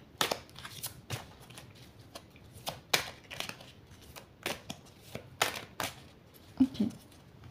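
A deck of cards being shuffled for a card reading, a series of crisp riffling and slapping bursts in irregular rhythm, close and moderately quiet, with no talk over it.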